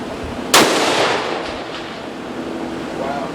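A single sharp rifle shot cracks out at a target, loud and close, then decays into a long rolling echo across open ground.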